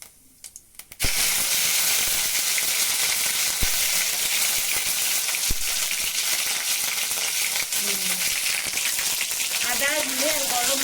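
Whole cumin seeds and a ground ginger, cumin and garam masala paste hitting hot oil in a pan: an abrupt, loud sizzle that settles into a steady, hissing fry with occasional stirring clinks, and a voice talking briefly near the end.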